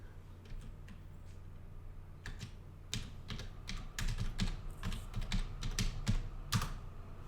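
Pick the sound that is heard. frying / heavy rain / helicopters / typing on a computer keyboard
typing on a computer keyboard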